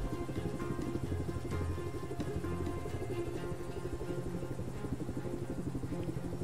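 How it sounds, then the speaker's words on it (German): Helicopter in the video game Just Cause 3, a loud continuous rotor chop with a rapid steady beat and engine whine, close and alone. "Ich lande mal den Heli."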